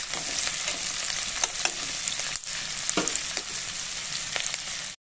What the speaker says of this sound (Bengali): দেখুন, পেঁয়াজটা আমার হালকা ভাজা হয়ে গেছে।